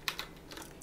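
Two quick taps on a computer keyboard's tab key, close and crisp, a short pause between them, then faint quieter key noise fading out.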